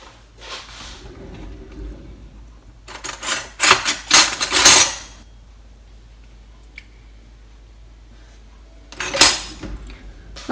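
Kitchen knife slicing and trimming the edges of rolled pastry for sausage rolls, heard as a few short bursts of scraping and tapping against a board with quiet gaps between them.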